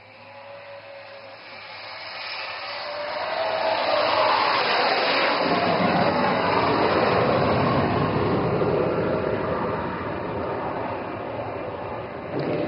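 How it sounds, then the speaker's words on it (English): A thrust-vectoring military jet comes in low for an overshoot over the Moran highway in Assam, its roar swelling over several seconds into a loud, sustained rush before easing slightly. "Call sign Arjun 3, piloted by Squadron Leader Bhadoria with Flight Lieutenant Benipal, is now coming in for an overshoot."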